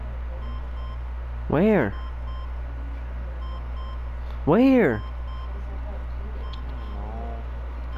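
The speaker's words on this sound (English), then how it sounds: "Can you even hear the beeps? Yeah, I hear it. It's scaring me. Yeah, it's actually a bomb." In Grand Theft Auto V, a bomb gives two separate electronic beeps a few seconds apart, heard under steady game background noise while a player speaks briefly.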